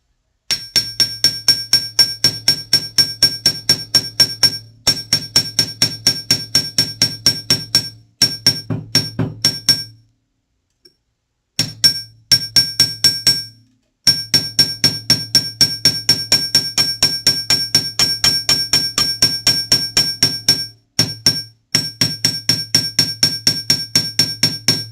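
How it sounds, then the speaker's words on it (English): Hammer taps steadily on metal wire for a handmade heart tree-of-life pendant, rapid rhythmic strikes in long runs with brief pauses, close and fairly loud with a ringing metallic edge and no talk. "So I hammered that little bit in there"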